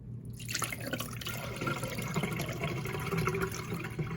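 Murky rinse water draining off washed black-eyed peas (lobia) into a sink, a continuous close trickle and splash with a low steady hum underneath and no talk.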